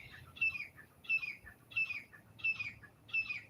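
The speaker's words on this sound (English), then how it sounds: "You, you hear the bird? The bird is talking to me." Outdoors at sunset, a bird chirps in a steady pattern of five short, bright call bursts about two-thirds of a second apart. The calls sound moderately close over a quiet background.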